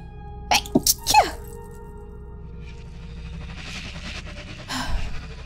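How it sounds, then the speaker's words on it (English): Several quick sneezes in a rapid cluster near the start from a person playing a game, loud and close, followed by quieter breathing and faint room noise. "Why am I always sneezing on every freaking video?"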